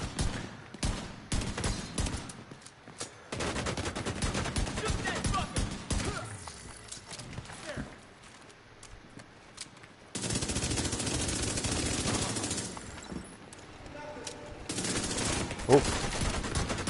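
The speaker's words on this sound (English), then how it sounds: "So all he can do now is shoot me with a gun." Sustained enemy gunfire in The Division 2 on PS5, bursts of rapid automatic shots crackling in dense volleys, loud and close, broken by short lulls.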